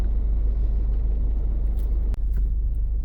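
Continuous low rumble of congested car traffic on a busy road, steady engine drone with a brief sharp knock partway through and faint hiss of passing vehicles.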